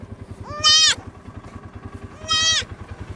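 Two loud, drawn-out bleating hollers come from young whitetail deer fawns on a deer farm, spaced about a second and a half apart, over a steady rhythmic motor chug running underneath.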